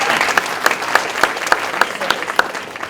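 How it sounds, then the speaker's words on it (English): An audience at a college service awards ceremony claps steadily, a moderate roomful of applause with a few sharper individual claps standing out at a regular pace. "A round of applause for Miss Service."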